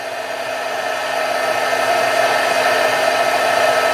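Constant whirring blow of a heat embossing gun melting embossing powder, close and steady with an even hum, running alone without talk.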